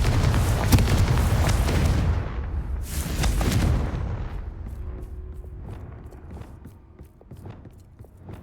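A Confringo fire-blast spell explodes in Hogwarts Legacy, heavy booming blasts up front around two large bursts, then fading into lighter rumbles and scattered thumps.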